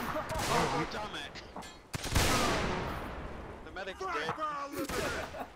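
Gunfire at a North and South siege reenactment event: sharp, loud shots crack out at irregular intervals, several close by, mixed with shouting and talk from the participants.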